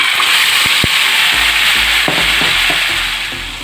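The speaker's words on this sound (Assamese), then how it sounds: "এতিয়া মেৰিনেট কৰি লোৱা চিকেনখিনি দি দিম।" Marinated chicken drops into hot refined oil in a pan and fries with a loud, steady sizzle, while a few stirring knocks and scrapes come through near the end as the frying settles.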